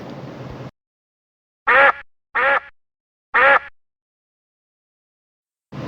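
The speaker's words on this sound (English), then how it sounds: "duck," A farm duck gives three loud, close, nasal quacks in quick succession, standing alone after a short burst of another animal's sound.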